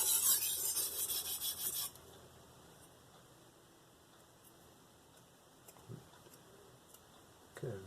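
Brief rasping strokes of a VG-10 Yaxell Mon chef's knife on a Naniwa Professional whetstone, a quick burst of close, steady scraping at the start that stops, followed by near-silence with a couple of faint taps.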